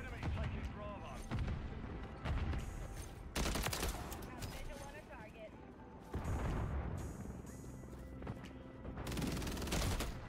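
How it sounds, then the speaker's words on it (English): Rapid automatic gunfire in a Call of Duty MW3 multiplayer match crackles in dense loud bursts with scattered single shots, running on and off throughout while a player talks over it. "My teammate's shooting at me."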